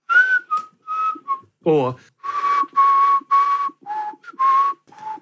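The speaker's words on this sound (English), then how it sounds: "Why don't you whistle again for us" A person whistles a tune alone in a run of clear, close, loud sustained notes with short gaps between them, and one quick sliding squeak partway through.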